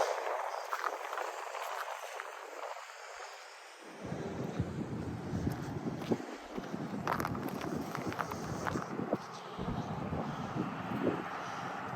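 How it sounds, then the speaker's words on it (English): On a cold street walk in Regina in November, wind buffets the microphone in a steady, rough rumble that grows louder and fuller partway through, with faint footsteps and traffic-like noise beneath it. "the wind is blowing in my face, so the wind chill is noticeable"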